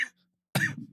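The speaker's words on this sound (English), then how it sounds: "I've had this cough since Halloween, pretty much." A single short cough sounds close by after a faint initial burst and a moment of near silence.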